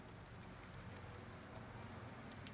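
Rain falls steadily as a dense, even hiss of drops, soft and continuous with no voices.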